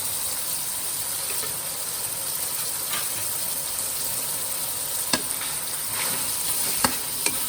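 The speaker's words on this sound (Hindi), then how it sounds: "स्पाइसेस को भी टमाटरों के साथ ही जो है वो हम भून लेते हैं।" Spices frying together with tomatoes for mutton karahi give a steady, even sizzle throughout, with a few sharp clinks of stirring near the end.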